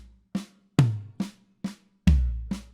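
A drum fill of single strokes moving across snare, toms and floor tom: six crisp hits in an uneven rhythm, the later strokes deeper and boomier, played close and alone.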